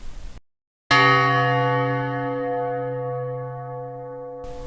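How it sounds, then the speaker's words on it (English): One abbey church bell rings a single loud, rich stroke after a short silence and then hums down slowly through a long resonant decay, with no voices heard. "At that time, bells were heard in the abbey"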